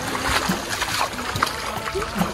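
Flood water splashes and sloshes in a steady wash of noise, with scattered bumps and people's voices mixed in.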